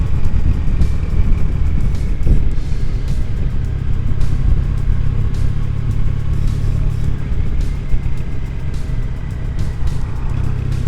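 Classic style motorcycle being ridden, a steady low engine drone with broadband wind rush running continuously and loud throughout.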